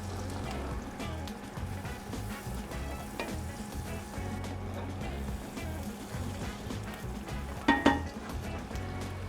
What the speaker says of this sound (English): we'll just kind of let that go for a little bit until the onions are translucent and the peppers are tender